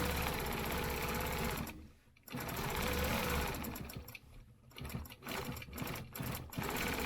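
A sewing machine stitches over a stencilled line in bursts, its rapid mechanical whirr running steadily, pausing briefly, then resuming in shorter runs with small gaps between.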